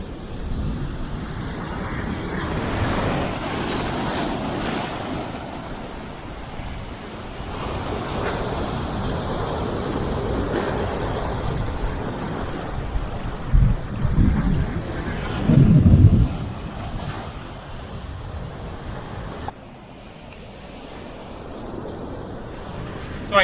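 Choppy ocean waves and gusty wind at a Kauai beach in Hawaii, a continuous rumbling surf wash with wind buffeting the microphone and a louder surge near the end.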